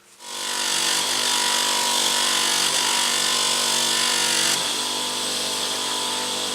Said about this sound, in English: put it on a polishing mop without any wax on at all, just to get everything off